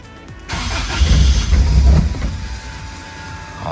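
A Toyota AE86 with a 4A-GE 20-valve engine cranks with a deep churning rumble, then catches and settles into a loud, steady idle close by.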